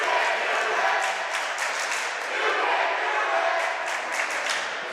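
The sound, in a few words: noisy student crowd at a high school basketball game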